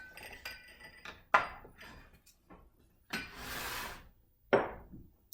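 A mixing bowl for vegan spelt pancake batter is handled in a kitchen, giving a few sharp clinks and knocks of glass or ceramic, with a bright hissing scrape in the middle, and no talking.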